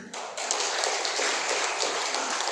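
Audience clapping in a health talk session, a steady, fairly faint wash of many hands throughout with no voices over it.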